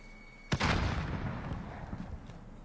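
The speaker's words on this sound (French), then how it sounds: "Grenade à fragmentation envoyée. Je lance une grenade." A fragmentation grenade goes off in a battle royale video game as one sharp, loud blast, followed by a rumbling tail that slowly fades over about two seconds, with faint pops behind it.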